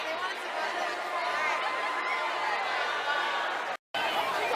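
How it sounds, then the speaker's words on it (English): Graduation crowd of a few hundred people chattering as it leaves after the ceremony, a steady, dense murmur of many voices filling the space, briefly cut off near the end. "Look at that crowd leaving."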